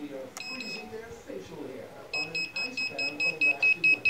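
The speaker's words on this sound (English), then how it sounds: "So my beeper is working." Beeper on a Racerstar quadcopter sounds a steady series of short, sharp, high beeps in regular pulses, starting partway through, while someone talks over them.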